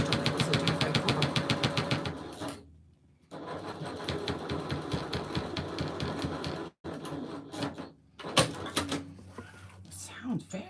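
A sewing machine once used to stitch a duvet cover runs loud and close in rapid, even needle strokes, stopping briefly twice before starting again in shorter bursts.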